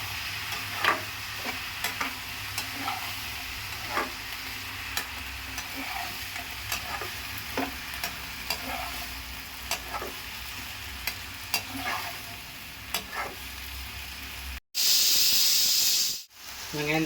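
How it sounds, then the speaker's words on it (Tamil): Tomatoes, onion, garlic and ginger sauté in a pan, giving a soft continuous sizzle broken by regular scrapes and taps of a spoon stirring, close up and fairly quiet, ending with a brief louder burst of noise. "எல்லாத்தையும் நல்லா வதக்கிக்கலாம்"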